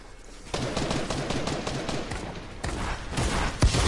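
Video-game gunfire rattles in dense bursts as one player shoots down another, with several loud clusters of shots over a few seconds.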